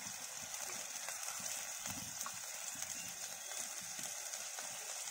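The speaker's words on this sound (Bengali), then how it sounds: "এখন মশলাটা একটু ভেজে নেব।" A spice paste with coriander powder fries in a pan, giving a steady, fairly quiet sizzling hiss with soft irregular crackles throughout.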